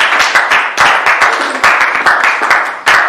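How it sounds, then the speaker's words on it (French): A church congregation claps enthusiastically during a French-language worship service, a dense, close burst of many hands applauding without pause for about three seconds. "Quelqu'un acclame pour Jésus."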